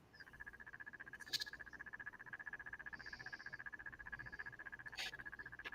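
A cricket-like chirp pulses rapidly and evenly for several seconds, faint and continuous, with a couple of brief sharper clicks mixed in and no voices.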